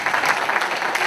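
Audience applause at a New Year's address in Beaussais-sur-Mer, a brief, steady patter of many hands clapping at moderate volume with no voices.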